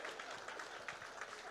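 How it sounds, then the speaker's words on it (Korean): A church congregation gives a short burst of applause, brisk overlapping claps at moderate volume lasting only a moment, with no speech over it. "박수 한번 쳐주세요."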